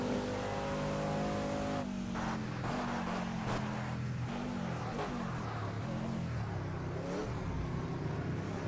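Sauber C9 race car in Project CARS, its engine loud and close, revving up and down through gear changes with harmonic sweeps rising and dropping as it brakes and accelerates through corners.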